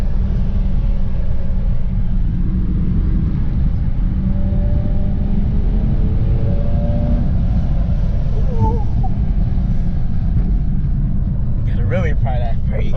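A Mazda car drives past during freeway and mountain touge runs, heard from inside another car as a steady loud engine and road rumble with the pass blending into the drone, while people talk over it.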